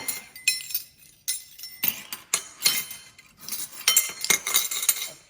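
A spoon clinks briskly against a bowl while mixing waffle batter of egg, melted butter and vanilla, rapid bright taps and scrapes coming in uneven bursts, close and fairly loud.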